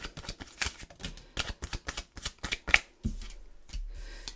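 A deck of Romance Angel oracle cards is shuffled in quick riffling bursts, close and crisp, then a few slower card slides toward the end, with no talk.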